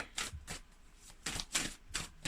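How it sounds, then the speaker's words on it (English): Tarot cards riffle and shuffle in repeated bursts, a rapid papery flutter that swells and fades several times in close, quiet succession. "Shuffle, shuffle, shuffle."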